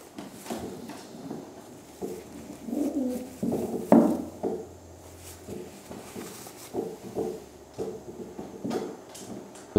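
A young female racing pigeon coos in soft low bursts, a few murmuring calls rising and falling with quiet gaps between, close by in a calm space with faint shuffling.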